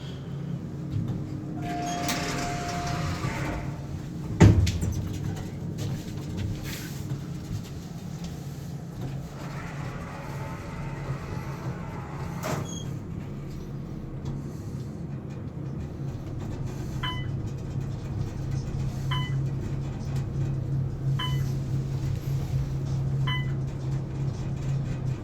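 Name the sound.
Otis Elevonic 411M elevator stopping at a floor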